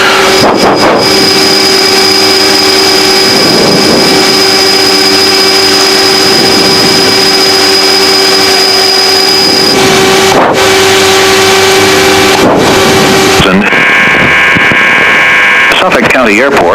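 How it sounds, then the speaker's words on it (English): Light aircraft engine turning a Hartzell three-blade scimitar propeller, a steady loud drone with sustained tonal hum throughout, shifting pitch near the end, with radio voices and speech over it. "I'm gonna listen to the motor."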